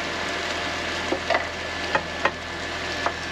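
Chopped eggplant and tomato simmer in a pan with a steady close sizzle, and a few soft utensil knocks and scrapes rise above it.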